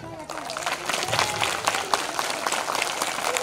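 A seated audience of children clapping at an inauguration event, a brisk burst of close, steady handclaps that carries on to the end, with a voice faintly heard at the start.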